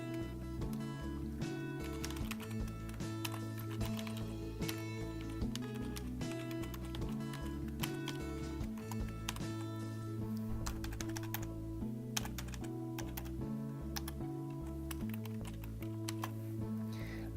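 Rapid keystrokes patter on a computer keyboard as login details are entered, a steady close stream of light clicks over a low background hum, with no talking.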